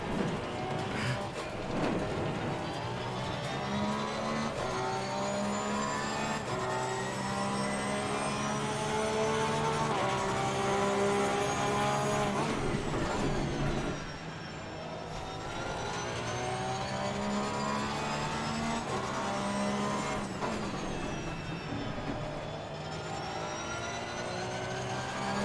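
A Porsche race car in Assetto Corsa Competizione at Circuit Zolder roars continuously, its engine note climbing and dropping through gear changes and braking, loud and alone without talk.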